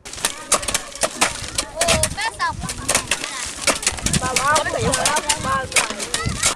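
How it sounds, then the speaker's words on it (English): Birds chirp and coo around a school farm on a hazy morning after rain, with pigeon- or dove-like calls and short song phrases scattered through steady outdoor background and some voices. "The sounds of birds show a new day at the Kachenlendo DA Basic School farm."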